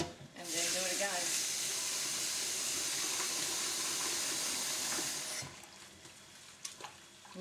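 Water pours and swirls in a bowl of rice being rinsed, a loud steady splashing rush for about five seconds that then drops to quieter trickles and small clinks.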